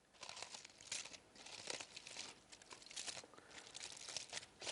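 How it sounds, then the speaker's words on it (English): Hot aluminium foil being opened and shaped into a nest around a baked apple, crinkling and crackling softly and continuously up close, with no voices. "You carefully open the foil and make a nest shape with it around the apple."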